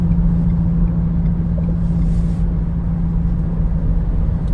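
Race truck engine idling with a steady, loud low rumble and a constant drone running throughout, no voices.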